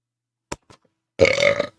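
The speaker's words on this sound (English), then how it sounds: "I burped." A man on a podcast lets out a loud, close, croaking burp of about half a second, following a couple of small clicks and a short silence.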